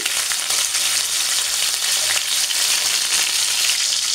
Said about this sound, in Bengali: আমি মাছগুলোকে তেলটা গরম করে দিয়ে দিচ্ছি। এপাশ ওপাশ করে ভেজে নেব।